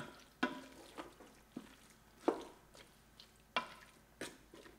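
A spoon stirs a ground beef and rice casserole mixture in a pot, giving a series of soft, wet scraping strokes in an irregular rhythm, close and fairly quiet, with no voices.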